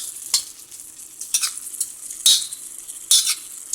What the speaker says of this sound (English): And then we're going to give it a stir.